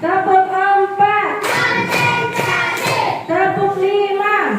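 Children in a classroom clap in a counting clap game, a burst of several quick sharp claps between stretches of sung and chanted voices.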